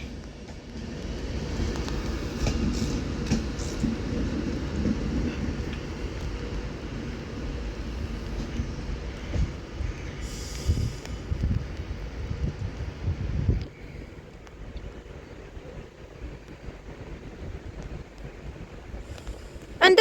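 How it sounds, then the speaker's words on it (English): Low rumbling of a Class 390 Pendolino train arriving at Manchester Piccadilly station, mixed with wind buffeting the microphone, easing to a quieter hum as it slows. "this 390 Pendolino's just now terminating into Manchester Piccadilly"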